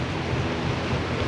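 Broadband rushing roar of a rain-swollen river in Colorado, steady and dense without a break, close by with no voices over it.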